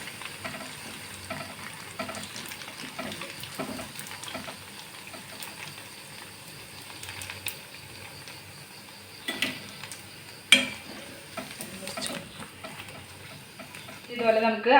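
An achappam mould heats in sunflower oil, giving a steady low sizzle and bubbling with scattered clinks and taps, plus a louder knock near the end.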